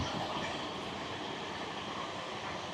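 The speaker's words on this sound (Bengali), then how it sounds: "নিউ ফারাক্কা জংশনের উদ্দেশ্যে ছুটে চলেছে আমাদের এই ট্রেন।" The Sairang Kolkata Express running at speed toward New Farakka Junction: a steady, fairly faint rumbling roar of rolling wheels with no clear clacks or talking.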